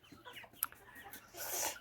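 A few soft, faint clucks from farm hens of a large poultry breed, brief and close, ending in a slightly louder rustling burst.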